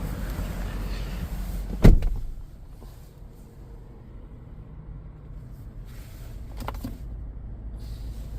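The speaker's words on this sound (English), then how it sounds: "Naturally, the slowest cup holder doors that you could ever use." Cup holder doors slide open slowly in a Lexus LX570 interior: a sharp mechanical click comes first, followed by quiet and faint soft movement noises a few seconds later, over low cabin hum.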